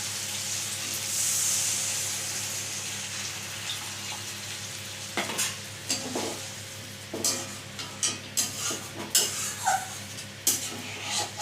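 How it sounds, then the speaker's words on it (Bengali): Water hits a hot pan of jackfruit kofta curry, setting off a steady hiss and sizzle, followed by repeated stirring scrapes and clinks of a utensil against the pan. "এবার জল দিয়ে দিচ্ছি।"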